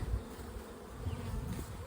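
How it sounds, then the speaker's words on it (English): Honey bees from a hive colony buzz in a close, continuous low drone, steady and moderately loud throughout. "So I'm going to take these bees"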